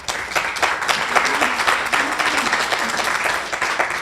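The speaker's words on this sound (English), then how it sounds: "please give our panelists a round of applause" Audience at a Manatee Tiger Bay Club luncheon forum on healthcare applauds the panelists, a steady wash of many hands clapping close and fairly loud for about four seconds, with a faint murmur of voices underneath.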